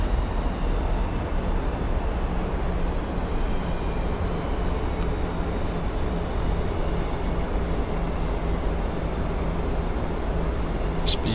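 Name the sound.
aircraft engines as throttles are reduced on approach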